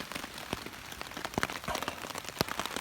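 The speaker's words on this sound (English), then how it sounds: "It's raining, and so I'm glad it's raining." Rain patters steadily on surfaces at a hot-weather campsite, with close, irregular drops ticking sharply over a soft, continuous wash and no voices.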